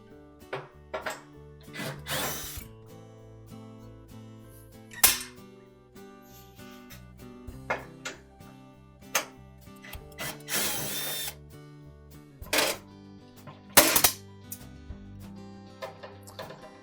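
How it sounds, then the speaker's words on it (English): A cordless power driver backs out the screws holding the heater housing to the back of a GE dryer, in several short whirring bursts with ratcheting clicks and pauses of handling between them. "we'll next remove the 4 screws that secure that housing to the back of the dryer."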